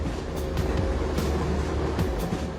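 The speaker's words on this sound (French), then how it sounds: "Un flux régulier de trains part ensuite en direction de Qinhuangdao." A heavy coal freight train on the Datong-Qinhuangdao railway rumbles past in a dense, continuous roar with faint rhythmic wheel clatter, loud and close throughout.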